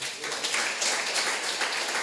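Church congregation applauding during a Sunday evening worship service, a steady dense wash of many hands clapping that fills the room for the whole stretch without pause.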